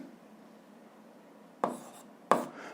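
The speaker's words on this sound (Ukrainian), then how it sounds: "Записуємо друге." Writing during a physics lesson: two short, close scratches of pen or chalk over a quiet background.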